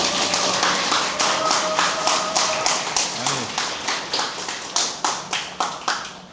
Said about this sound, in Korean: 여기서 박수 한번.